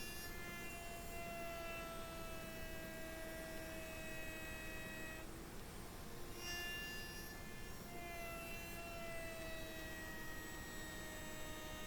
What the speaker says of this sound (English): Now I could use the router to clean up the rough edges left by the jigsaw